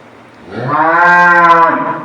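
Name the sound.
dairy cow mooing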